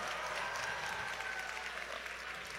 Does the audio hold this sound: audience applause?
yes